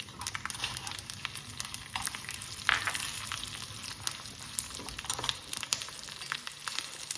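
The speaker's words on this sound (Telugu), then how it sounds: "ఇది వేగాలి, ఎర్రగా వేగాలి." Ginger fries in oil until reddish for a ginger chutney, giving a quiet, continuous sizzle with scattered crackles and pops across the whole stretch.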